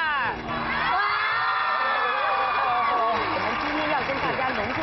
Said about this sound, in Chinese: 大家尖叫一下。